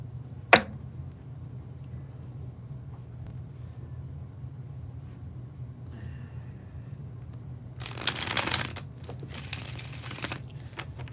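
Tarot cards being shuffled during a reading produce a sharp tap followed by quiet handling, then two bursts of crisp riffling toward the end, close and moderately loud with no talking.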